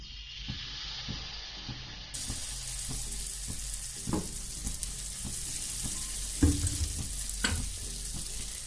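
Bajra flour batter fries in oil on a hot iron griddle with a steady, bright sizzle that grows louder partway through, while spoon scrapes and taps sound at irregular intervals.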